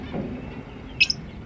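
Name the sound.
zebra finches chirping in an aviary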